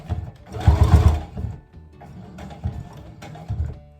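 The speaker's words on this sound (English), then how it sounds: "Just keep stitching until you get back to your original seam line." Sewing machine stitching a seam through bulky fabric, one close burst of rapid mechanical whirring followed by shorter bursts and softer stitching as it works over a ridge.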